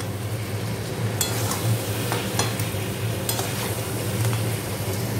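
Crabs stir-fried in a thick spiced masala for crab malaikari, with a steady frying sizzle and scraping stirs of a spoon against the pan close up and without talk.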